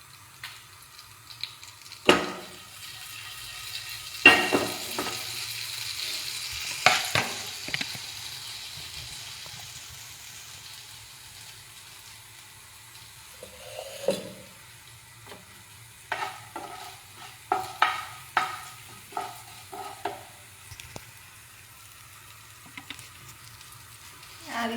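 Cumin and two bay leaves sizzle in a mix of butter and oil, with stirring clatters and scrapes in the pan, the frying hiss steady and close, the stirring sounds rising in irregular bursts.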